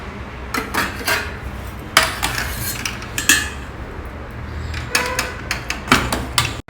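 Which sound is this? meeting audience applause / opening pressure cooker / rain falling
opening pressure cooker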